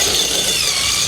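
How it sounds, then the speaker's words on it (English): Impact driver sinking a screw through 7/16-inch sheathing into a wood stud, a steady loud whirring drone that holds evenly for about a second with no pause. "You can hear that impacting action. That's occurring as the screw bites into the stud."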